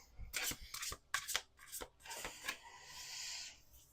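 Playing cards being shuffled at a table, a quick series of soft riffling and snapping bursts followed by a brief sustained rasp, close and quiet with no talk.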